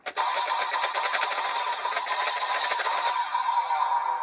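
Kamen Rider Gotchard DX Gatcharge Gun toy trigger sound effect: a loud, close electronic burst of rapid buzzing pulses lasting about three seconds, then trailing off into a falling tone.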